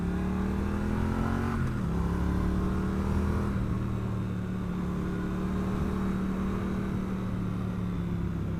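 A Triumph Street Twin motorcycle's engine and exhaust heard from the rider's position, a steady, soft, bubbly drone whose pitch shifts a couple of times as the bike changes speed, with wind noise throughout.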